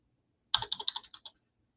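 A zip code is typed on a computer keyboard in one quick burst of about eight crisp, close keystrokes, then silence.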